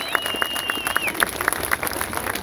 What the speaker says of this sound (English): Guys, big round of applause for all our speakers today, please.